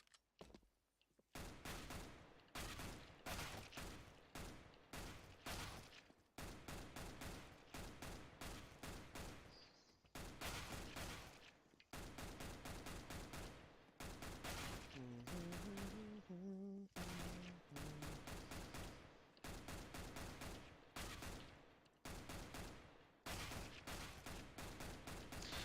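Pistol fire in the video game CS:GO during warm-up practice. Loud, rapid shots come in quick repeated volleys with short pauses between them, continuing almost without break throughout.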